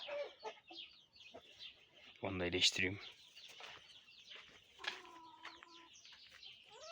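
Hen clucking close by in a poultry yard, a short burst of loud clucks amid quieter bird noises, with someone speaking around it.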